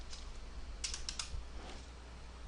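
A computer keyboard is typed on in a quick, faint burst of a few keystrokes, heard alone against a low steady background hum.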